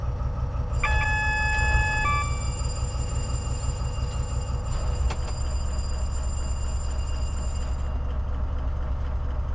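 Freight train departing in Train Simulator 2017, a steady low rumble throughout with a sustained horn-like tonal blast near the start and a sharp click midway, loud and without speech.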